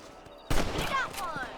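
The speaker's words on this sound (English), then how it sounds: "Better at shooting rabbits than outlaws, I see." Rifle shot cracks out while hunting rabbits in Red Dead Redemption, one sharp loud report followed by a second burst and ringing game effects, with a voice faintly underneath.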